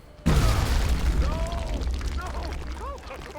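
Grenade explosion in the video game XCOM Long War, a sudden loud boom that breaks from quiet and rumbles on with a long decaying tail, while voices call out over it.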